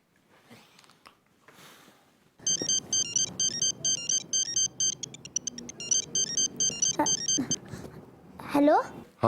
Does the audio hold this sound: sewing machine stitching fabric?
no